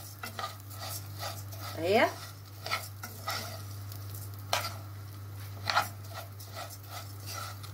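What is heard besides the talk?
stirring vermicelli frying in ghee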